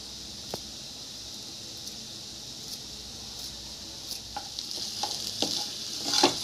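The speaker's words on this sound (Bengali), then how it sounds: "এবার আমি ভালো করে আলুটাকে কষিয়ে নেব আলুকে।" Potato masala for masala dosa is stir-fried in a pan, with a soft sizzle under a run of scraping and tapping stir strokes that grow busier and louder toward the end.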